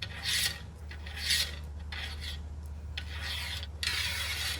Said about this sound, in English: We can slide the carriage bolts in starting at the back and work them to the spots we need them.